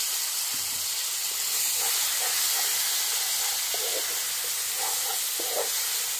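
Water poured into a hot pan of frying gathi kochu (taro) masala with Kashmiri red chili powder sends up a loud, continuous steamy hiss, with faint scraping and stirring clatter beneath and no voices.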